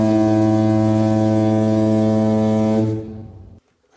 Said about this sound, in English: I think we hear the foghorn a bit more.